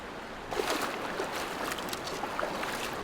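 A hiker in hiking shoes wades across a river in New Zealand, bringing on steady splashing and sloshing water that starts after a brief quiet moment and continues close and unbroken, with no talking.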